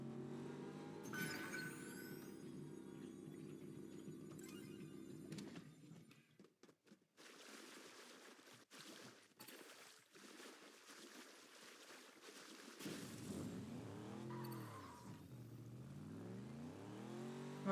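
Car driving in the Fortnite video game, its engine droning steadily and loudly through the opening seconds, then giving way to a run of game effects and a second rising and falling engine whine near the end, with no talk over it.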